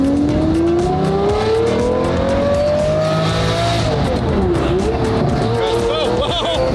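A straight-piped McLaren Senna hypercar revs hard, its loud, steady engine note sweeping upward and then dropping in pitch, with brief tire chirps and people talking over it.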